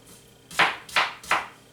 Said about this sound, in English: I'm just coming in long ways and then across. I want nice little diced pieces.